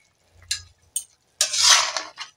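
A metal lid is lifted off a pan of magur fish curry with eggplant and papaya, giving a couple of brief clinks followed by a louder rattling scrape and a burst of steamy hiss, close and without talk.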